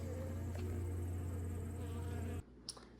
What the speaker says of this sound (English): these bees are just cleaning it right up